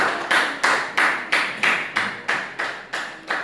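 A classroom group claps in unison, about ten crisp, evenly spaced claps roughly three per second, close and fairly loud, with no talking over them.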